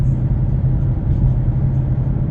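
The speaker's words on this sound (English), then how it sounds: "let me put that in 5th gear, and it really does tame down that exhaust" A 2024 Ford Mustang GT with new suspension and aftermarket exhaust cruising in 5th gear, a steady, loud low-pitched drone and rumble heard from inside the car without any speech.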